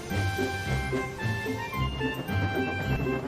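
Orchestral theme music from Calling All Engines, scored with instruments matching James's character theme, playing steadily with a bouncy rhythmic bass line under sustained melodic tones.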